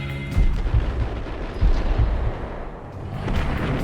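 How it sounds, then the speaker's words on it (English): Grenade launcher rounds in Max Payne thud out as a series of heavy, booming blasts, four or so spaced irregularly over a rumbling backdrop of gunfire. "He's got a grenade launcher."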